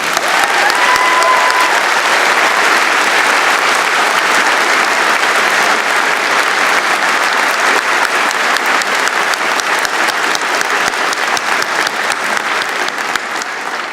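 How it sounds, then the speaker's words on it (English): Steady, loud applause from a large audience at a university convocation ceremony, sustained dense clapping that continues evenly for the whole stretch with no talking. "Please join me now in a round of applause,"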